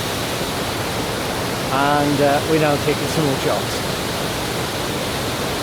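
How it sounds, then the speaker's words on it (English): Waterfall in hilly country, a steady broadband rush of falling water filling the whole clip at moderate level, with someone talking over it midway. "This is still waterfall number 1."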